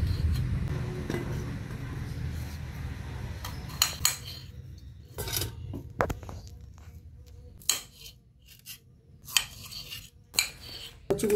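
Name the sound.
cutting taro into long strips with a knife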